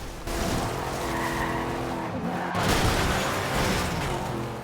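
A heavily upgraded, massive car racing in Forza Horizon 2, its engine roaring loud and steady with tire squeal and a brief surge midway, no talking.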